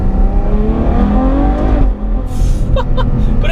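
Ferrari 812 Superfast engine on downshift, a loud close interior roar with pitch sweeping as revs change, then a dip and a few sharp crackling pops.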